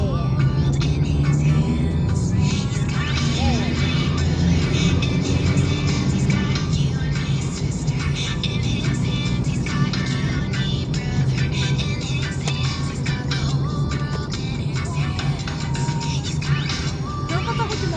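Road traffic with cars and trucks passing close by, a loud, continuous engine rumble and tire roar that swells and fades steadily throughout.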